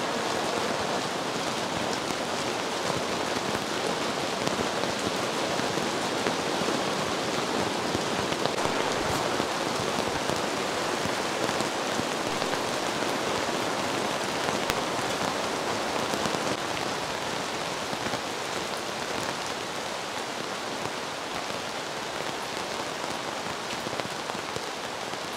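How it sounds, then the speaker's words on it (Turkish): Heavy rain pours steadily onto a camping tent during a thunderstorm, a dense, continuous close hiss of drops drumming the fabric with no pauses. "Şu anda çok hızlı yağıyor."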